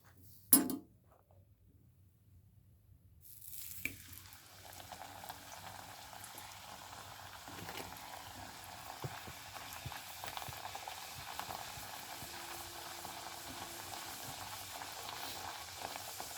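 Food frying in a pan, a soft steady sizzle that starts after a sharp clatter and a near-silent gap, then builds into a faint continuous bubbling hiss.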